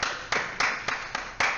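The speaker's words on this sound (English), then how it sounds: "A round of applause" A round of applause from an audience at a young talents show, with clapping bursts in uneven waves, fairly close and moderately loud, alone without talk.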